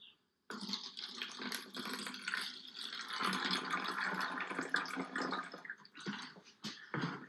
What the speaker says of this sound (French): Ensuite, nous allons mettre un petit peu de vinaigre